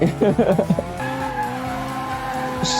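Mazda RX-7 FD3S drifting in the Assetto Corsa racing game, with a short burst of rapid engine and tire bursts giving way to a steady rotary engine drone and tire squeal, close and loud throughout.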